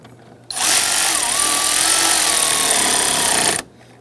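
A power driver snugs down the two lower screws on a Ford Mustang interior trim panel: one loud, sustained whirring burst of about three seconds, starting and stopping abruptly, with a slight pitch wobble midway and no talking.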